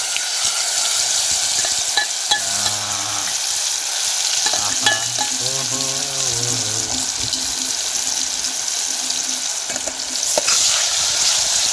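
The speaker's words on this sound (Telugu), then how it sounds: "ఇప్పుడైతే మనం దంచి పెట్టుకున్న ఉల్లిగడ్డ కారంని ఈ తిరువాతలోకి వేసుకుందామండి." Pounded onion chili paste dropped into hot oil in a pan, sizzling and frying loudly and continuously while a spoon scrapes and stirs it, up close with no talking.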